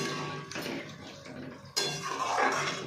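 Water from a rinsed mixer bowl splashes into a pan while cooking fish with poppy seed paste, a short close pour with a clink of the bowl, louder toward the end.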